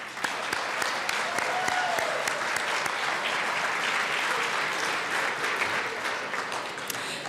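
Applause fills the Colorado House chamber for a newly sworn-in representative, a sustained even round of clapping from many hands with no voices over it.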